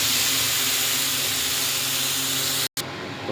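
Spice paste of garlic, ginger, onion and chilli fries in hot oil with a dense, steady hiss close by, cut by a brief silent gap before the sizzle resumes slightly quieter.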